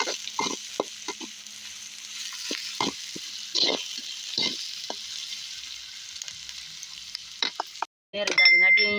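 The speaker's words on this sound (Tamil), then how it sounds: "வெங்காயம் நல்லா வதங்கட்டும்" Onions sautéing in a pan for mutton thokku, a steady frying sizzle broken by repeated clicks and scrapes of a spoon stirring them. The sound cuts out briefly near the end, then a louder clatter follows.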